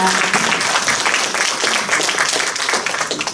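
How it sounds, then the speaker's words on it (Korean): Dense audience applause at a Korean art-song concert, many hands clapping in a continuous, bright, even wash with no gaps and no voices over it. "박수 부탁드립니다"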